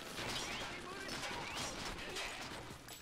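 Gunfire in the video game Red Steel, a dense continuous burst of rapid shots with crashing impacts, loud and sustained throughout with no clear pauses.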